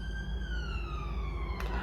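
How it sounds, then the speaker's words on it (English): An ambulance siren passes by on the street, its steady wailing tones sliding gradually downward in pitch as it goes, loud over low road rumble, with a brief burst of noise near the end. "Oh, I should let this ambulance pass."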